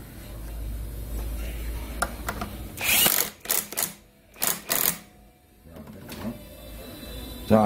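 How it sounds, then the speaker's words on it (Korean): A nut being tightened on a scooter CVT pulley housing with a power tool, several short loud bursts of whirring and rattling separated by quiet gaps. "너트 결합합니다."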